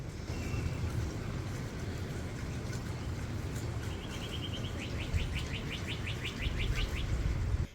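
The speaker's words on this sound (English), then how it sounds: "The birds are birding." Birds chirp outdoors in quick repeated tweets and short trills, moderately distant, over a steady low rumble of traffic or wind.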